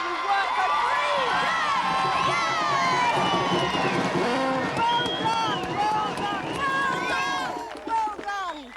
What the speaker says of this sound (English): So give the hugest round of applause to all these people who've worked for free.